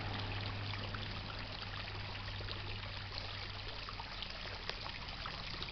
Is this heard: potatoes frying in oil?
no